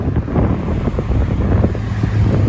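Strong wind buffets the microphone in steady low rumbling gusts at the St Andrews Lock and Dam in Lockport, Manitoba. The roar is continuous and close, with no voices.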